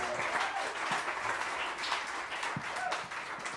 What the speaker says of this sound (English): Give him a round of applause, the great James Suter on the upright bass.